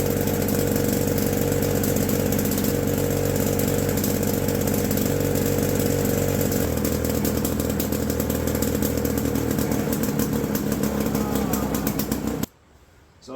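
A pre-1958 two-stroke lawn mower engine runs at a high, raised idle with a loud, buzzing rattle that holds steady, changes pitch partway through, then cuts out abruptly near the end.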